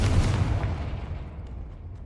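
A deep, booming spell explosion from the Hogwarts Legacy video game rumbles loudly at the start and then rolls away into a fading, muffled tail, with no one talking.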